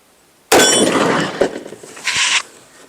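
Gun firing explosive ammunition at targets, a sharp loud blast followed by a crackling, shattering burst of debris and a second bright impact burst, then fading quickly.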